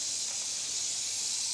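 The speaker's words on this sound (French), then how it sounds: "on voit la vapeur commence à s'échapper du sifflet." Steam hisses from the whistle of a steam engine in a steady, loud, broadband rush that holds constant for the whole short clip, with no voices over it.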